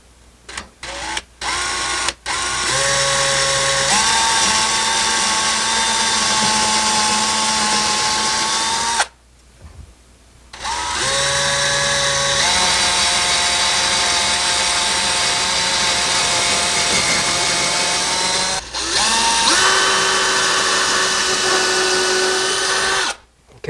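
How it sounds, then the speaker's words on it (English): A power drill bores holes into a wall for floating shelf brackets, long loud whining runs with a steady pitch that sag under load, broken by short pauses and quick trigger bursts, very close. "We're going to drill a small hole there."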